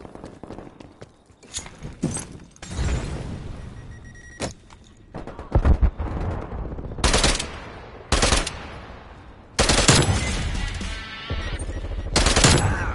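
Gunfire in the Call of Duty video game on PS5 comes as bursts of rapid automatic fire and sharp single shots in irregular clusters, loud and close, with short quiet gaps between volleys.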